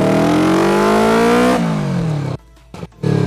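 A two-cylinder Yamaha Vixion motorcycle fitted with an Engker three-mode exhaust set to standard mode revs hard with a rising then falling engine note, briefly cuts to near silence, then blips again, loud and close.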